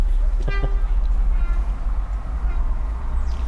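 A train horn gives two short toots over a steady low rumble of a passing train, fairly close and loud.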